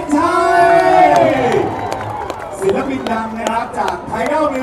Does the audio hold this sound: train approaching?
no